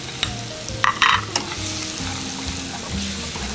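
Brown sugar sizzles and crackles as it caramelizes in a pan on a restaurant stove, with steady close frying hiss and a few sharp stirring clatters, no talking.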